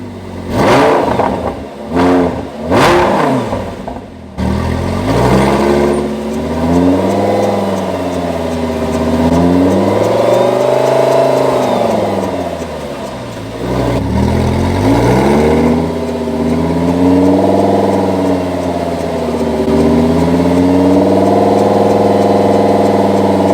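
A salvage Lamborghini's engine starts with a few sharp cranking bursts, then runs loud and close with long rising and falling revs as all four wheels spin in the air.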